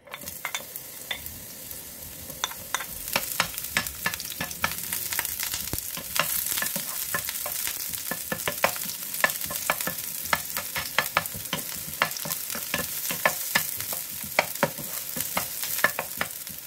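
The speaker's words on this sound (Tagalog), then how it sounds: "Ilagay na natin yung sibuyas muna." Onions sauté in a pan, with a constant sizzle under repeated sharp scrapes and clicks of a utensil stirring against the metal, the strokes coming in an uneven rhythm close up.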